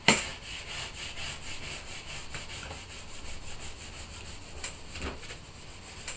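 A squeegee burnishes adhesive onto a sheet of acetate, a continuous close rubbing and scraping with rhythmic back-and-forth strokes and a few sharper ticks along the way.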